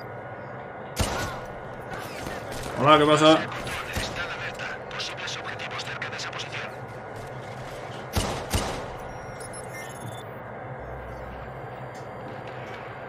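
Sharp gunshot bursts crack out in short clusters amid Watch Dogs 2 game background noise, while someone speaks briefly in between.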